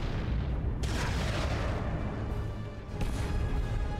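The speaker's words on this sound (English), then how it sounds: "where did that explosion come from?" A deep boom rumbles through the Warhammer 40K: Dawn of War 2 Retribution battle, with further muffled blasts following amid dense, noisy game sound.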